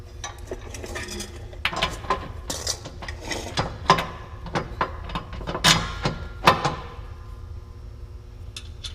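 Bolts being tightened on lawn striper brackets for a 2016 Bad Boy 60-inch mower deck: close, irregular metallic clicks, ratcheting and clanks in short bursts over a steady low hum.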